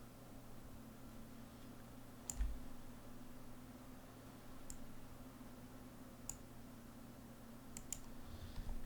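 A computer mouse clicks sharply a handful of times at irregular intervals, faint and close, over a steady low electrical hum while an object is dragged in vector drawing software.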